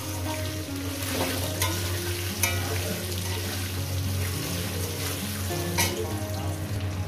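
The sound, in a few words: potatoes frying in a pan for fish curry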